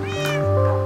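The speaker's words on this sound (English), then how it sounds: "You can have some fish cats." A cat meowing in a survival video game, one clear, loud, drawn-out meow lasting just under a second.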